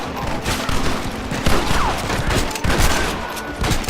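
Sustained gunfire in Red Dead Redemption, a battle with many repeated shots in uneven bursts, some close and punchy, layered over a busy din of combat.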